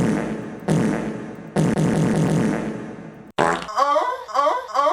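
Several loud, crude fart noises as a comic sound effect, including a long broad blast and a sputtering, rippling run of wet bursts near the end, with no voices.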